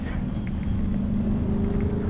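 A V8 car fitted with the Performance Pack and racetrack tyres drives on a racetrack, its engine giving a steady close rumble.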